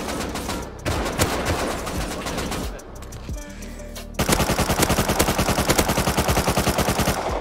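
AK rifle fire in the survival video game Rust: loud, rapid automatic bursts with a brief lull, then a sustained, evenly paced stream of close shots.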